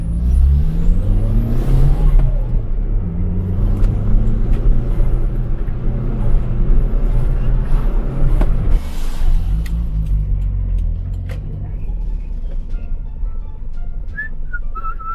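Turbocharged Toyota Starlet driven through city streets, engine rising and falling through the gears with turbo whistle and exhaust rumble, loud and close from inside the car, easing off toward the end.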